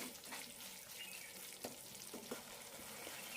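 Soft sizzling of chicken pickle masala in a pan, with a few light scraping stir strokes standing out above a faint, steady fry; quiet and close.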